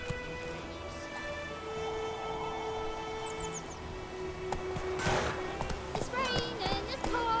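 Roach, a horse in The Witcher 3, moves along with rhythmic hoofbeats under game ambience, bird chirps and a voice talking.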